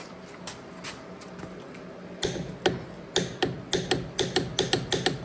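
Torque wrench on a rear wheel nut, giving a run of sharp clicks that start after a quieter scrape and repeat steadily and close up over the last three seconds, with no talk.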